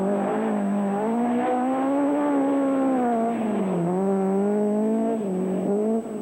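A late-1970s rally car on a British rallycross stage, engine revving loudly and steadily with rising and falling pitch as it takes the bends; no other cars are distinct.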